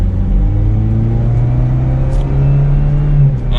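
A car engine revs up steadily, its low hum rising in pitch as it accelerates, close and continuous with no talking.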